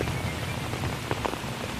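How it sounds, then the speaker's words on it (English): Heavy rain falling in very wet conditions, a dense continuous patter and hiss of drops hitting surfaces with a few louder splashes, no voices. "Now I just had to wait for the rain to do its thing."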